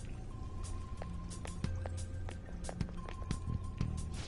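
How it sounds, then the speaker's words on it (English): Many footsteps approach through a castle in the video game Persona 5 Royal: a steady run of light, scuffing steps with faint drips and soft thuds, moderately loud and continuous over a low ambient hum, with no talk. "I can hear footsteps coming. Lots of them."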